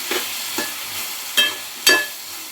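Chilli powder poured into hot oil gives a continuous sizzle, with four sharp bursts of spattering or spoon strikes spaced unevenly, close and wordless.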